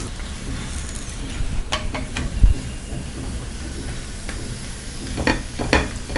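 Coconut poli cooking on a pan brushed lightly with ghee over low heat gives a faint, steady sizzle with a few brief scraping clicks, heard alone with no talk.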